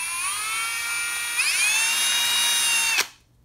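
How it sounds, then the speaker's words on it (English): A power drill bores servo mounting holes in hardwood for a model Spitfire Reno racer, its close, loud motor whine running steadily and shifting pitch before it cuts off abruptly. "we're just going to simply drill"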